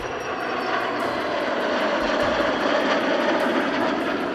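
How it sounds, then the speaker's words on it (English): Rafale jets pass at a military airshow, a loud sustained engine roar filling the clip steadily with no voices. "The Mustang then cleared the way for the three jets to return for a buddy-buddy refueling demonstration"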